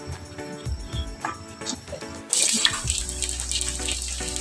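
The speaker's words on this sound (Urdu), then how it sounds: "ایک پین میں آئل لیں گے، یہ ٹکیاں فرائی کریں گے" Chicken kebab patties sizzle in hot oil in a pan, with a steady frying hiss that swells after a brief clatter, close and moderately loud, with no one talking.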